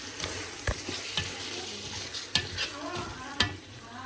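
Tomatoes and whole garlic stirred and fried in a pot, a continuous close sizzle broken by sharp spoon knocks against the metal, several distinct clacks spaced irregularly, no talking.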